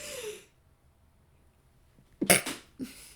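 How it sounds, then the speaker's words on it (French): A single person sneezes in a quiet room during a tarot card reading: a sharp, close burst after a long silence, followed by a shorter breathy trailing burst. "Il y a avant tout un éternuement qui arrive."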